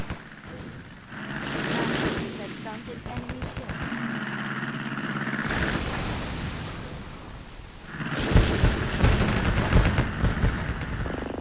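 Naval guns fire heavy, rapid bursts during a video game sea battle, dense booming and rattling gunfire in loud waves with a quieter pause midway, and a voice talking over parts of it.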